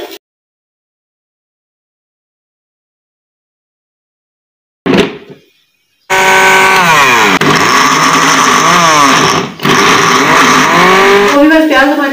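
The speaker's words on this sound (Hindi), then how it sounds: "उसके लिए चटनी को ग्राइंड कर रही है" An electric grinder blends chutney for raita in a village kitchen. After near silence and a short thump, it bursts in loud and close with a harsh motor whine that rises and falls in pitch, broken by one brief pause.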